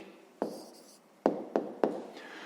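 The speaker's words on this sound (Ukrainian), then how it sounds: "Пишемо відповідь." A pen writes an answer into a school notebook at close range, a soft scratching broken by four sharp taps spread over a couple of seconds, with no voices.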